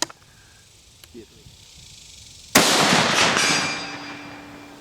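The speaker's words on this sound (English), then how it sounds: "We'll do 3 fairly quick shots here." A rifle fires outdoors in wind, one sudden loud crack with a long rumbling tail that slowly fades, preceded by faint small sounds.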